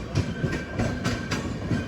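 A train rolls past at a random crossing on the Bengaluru to Hatia route, wheels beating out a steady clickety-clack rhythm of repeated thumps over the rails, close and continuous.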